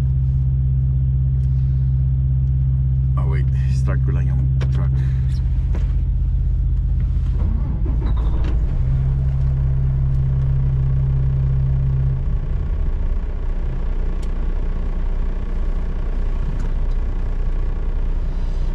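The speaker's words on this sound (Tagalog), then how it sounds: "Wait, start ko lang yung truck." A heavy diesel semi-truck engine starts and rumbles steadily at close range, a low idle that shifts in pitch partway through, with faint clicks and rattles over the drone.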